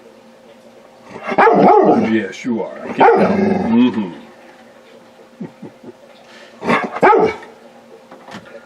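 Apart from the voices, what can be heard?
big beefy dog barking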